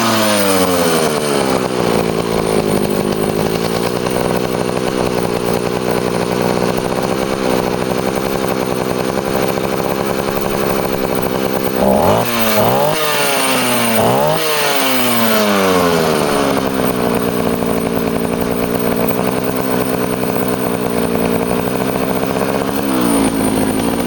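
Jonsereds Raket chainsaw engine roaring loud and close for a long stretch, with a pair of sharp rev surges and throttle sweeps in the middle before it settles back to a steady high run.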